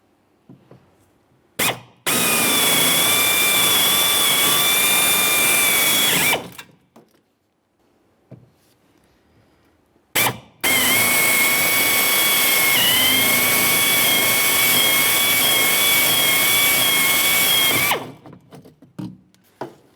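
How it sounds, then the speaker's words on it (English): A power drill drills out rivets on a 2006-2012 Ford Fusion rear window regulator in two long bursts, each several seconds, with a steady high whine and grinding, separated by a short pause and small clanks. "Go ahead and drill this off, and then we'll knock out the center once we're done."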